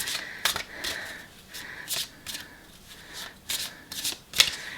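Cards riffled and shuffled repeatedly in quick bursts, close up and crisp, with brief pauses between each pass and no talking.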